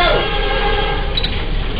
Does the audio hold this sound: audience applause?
no